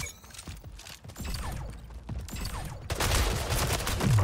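Shots crackle in quick, irregular succession during a competitive online shooter match, a steady clatter of overlapping gunfire that thickens into a louder, denser wash near the end.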